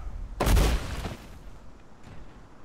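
A single heavy boom bursts out in a superhero fighting video game, loud and sudden, then decays into a rumbling tail with faint background noise.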